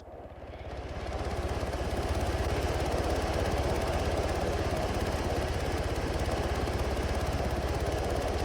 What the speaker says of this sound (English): I know the wheel's glitched out, making engine sounds as well.